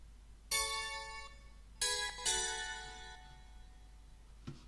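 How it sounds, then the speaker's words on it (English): Synthesized bell sound from a Christmas remix, three bright ringing strikes with long shimmering decays, clean and isolated, followed by a faint click. "the actual synthesized kind of bell sound, which is this one"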